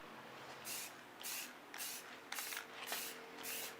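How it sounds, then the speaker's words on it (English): A spray paint can hisses onto a steel wheel in about seven steady, evenly spaced bursts, each lasting under half a second, close and fairly quiet. "Make sure that you evenly spray the wheel from all angles to ensure that you get proper coverage."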